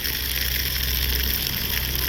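Running water pours steadily while mustard greens are washed for saag, a continuous close gushing rush with no voices.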